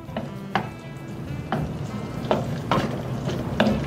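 Onions sauté in hot oil in a pan, giving a steady close sizzle broken by several sharp scraping stirs at irregular intervals.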